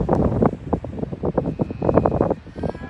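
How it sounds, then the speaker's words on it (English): Strong wind gusting outdoors on a cattle ranch, buffeting the microphone in rough, uneven bursts of low rumbling noise throughout. "It is so windy."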